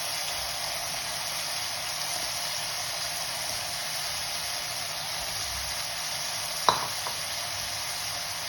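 Eggs sizzling in a pan of egg curry, a steady faint frying hiss throughout with one brief clink of a spoon against the pan near the end.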